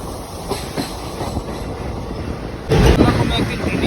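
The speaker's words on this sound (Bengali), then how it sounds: "ওইদিকে তো ট্রেন যাচ্ছে" A train passes near a road and bridge on the way to Malda, its rumbling and rail clatter steady beneath the scene, swelling louder and closer toward the end.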